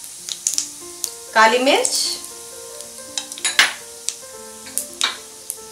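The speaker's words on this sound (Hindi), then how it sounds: "तेल गरम हो चुका है, अब हम इसमें जीरा डालेंगे, बे लीव्स डालेंगे, दालचीनी डालेंगे, लौंग" Whole spices (cumin seeds, bay leaves, cinnamon and cloves) hit hot oil for a masoor pulao with a sudden loud crackling sizzle, then a stir and scattered clinks of utensils against the pan while a voice speaks briefly.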